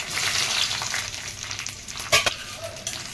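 Cut ivy gourd pieces hit hot oil in a kadai, a close, steady hiss and sizzle with a couple of sharp clatters from the pan near the end.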